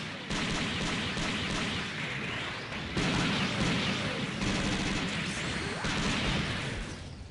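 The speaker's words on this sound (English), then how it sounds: "But the difference is it is a long-range beam rifle" Long-range beam rifle shots from a Victory-2 Assault Gundam in SD Gundam Online, a steady barrage of dense, crackling blasts with sharp surges near three and six seconds, continuous and fairly loud over busy game effects.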